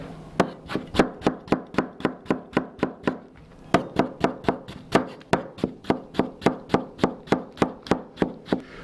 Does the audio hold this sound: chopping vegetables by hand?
yes